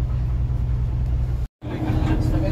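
A bus carrying coworkers idles with a steady low engine rumble, a brief cut interrupts it, and then the engine continues loud and close as the bus starts off.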